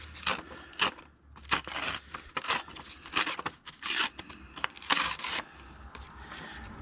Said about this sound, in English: let's rip off these white edges